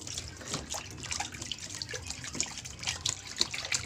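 Liquid splashes and trickles in uneven bursts close by, wet squelching as grated coconut soaked in water is wrung out by hand for coconut milk.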